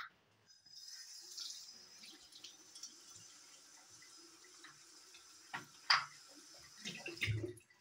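Lukewarm tap water splashes as foam from a gel cleanser is rinsed off the face during a skincare routine, a quiet, uneven trickle with a few louder splashes and drips near the end, no voices.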